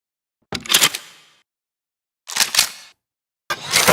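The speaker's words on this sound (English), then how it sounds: "For this I wanted to get a realistic sound, but with the feeling of the player is grabbing and loading a large sum of bullets." Video game machine gun ammo pickup effect: three separate bursts of clattering metallic clicks and rattles, like bullets being grabbed and loaded, each roughly a second long with silence between them.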